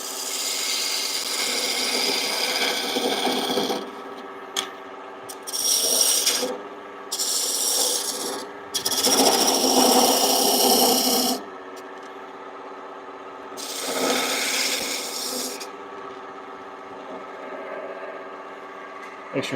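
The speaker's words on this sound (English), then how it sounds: "Let me get my spindle gouge here." Spindle gouge cutting wood on a lathe while turning a carving mallet, heard as loud, close scraping and rubbing in several uneven bursts with quieter pauses between them.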